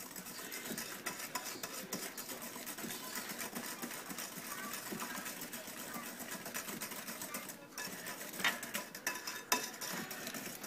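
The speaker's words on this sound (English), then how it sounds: "I'm just going to beat this up till it's smooth" Lemon bar mixture is beaten until smooth in a bowl, a steady, dense whirring scrape that runs continuously without pause.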